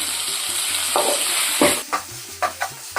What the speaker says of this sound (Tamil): தக்காளி நல்லா குழஞ்சு ஆயில் பிரிஞ்சு வரணும் அது வரைக்கும் நம்ம வதக்கணும்